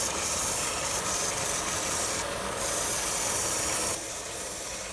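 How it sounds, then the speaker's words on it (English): Steady, close abrasive rasping from sanding the edge of a vise back plate, a continuous gritty hiss that briefly shifts in tone and eases near the end, with no voices. "I sand it and clean it up a bit to make it more presentable."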